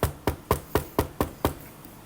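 Seven sharp, evenly spaced knocks on wood, loud and close, sound in steady succession at a quick rhythm with nothing else around them.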